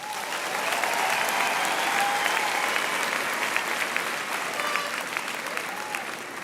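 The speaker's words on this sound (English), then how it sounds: "a round of applause" A hall audience at a university graduation ceremony gives a sustained round of applause for the lecturers, a dense, even wash of clapping with faint cheers, continuous and fairly loud from start to finish.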